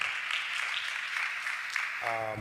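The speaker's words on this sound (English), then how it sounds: "Round of applause for that." Applause from a conference audience at a blockchain summit panel, a steady mid-level clapping wash, with a voice breaking in near the end.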